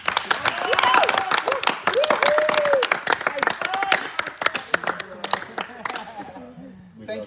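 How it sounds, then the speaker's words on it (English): Applause and clapping from an audience at a church training session on video and lighting hardware, dense claps with voices and cheering mixed in, thinning out toward the end. "can we give them a big river of applause?"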